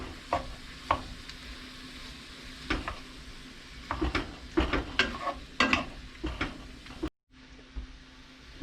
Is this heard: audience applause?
no